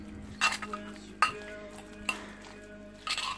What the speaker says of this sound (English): So give that a mix.